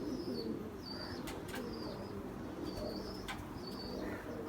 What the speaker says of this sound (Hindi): ये बटेरा कबूतर, काले मुंह वाले जो सियालकोट के कबूतर होते हैं